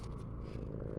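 A cat purrs steadily and close up, a low continuous rumbling with no other sounds.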